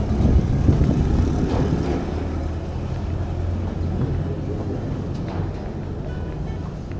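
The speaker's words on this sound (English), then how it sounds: "People on their motorcycles going to work." Morning street traffic rumbles through the town of Antigua as people ride motorcycles to work, a continuous low engine drone with gusts of wind buffeting the microphone.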